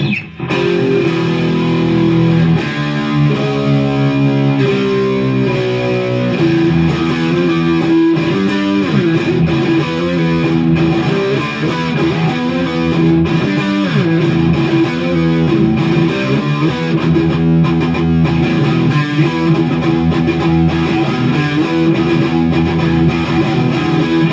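A 1983 Gibson Invader electric guitar plays through a distorted amp channel, with loud, continuous chords and riffs ringing out alone and close for the whole stretch.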